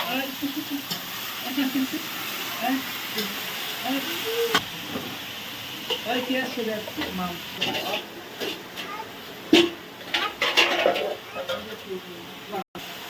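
Vegetables with pumpkin, green chilli and ginger paste sizzle in a pan while being stirred vigorously, a steady frying hiss with scraping stirs and clinks, a person talking throughout.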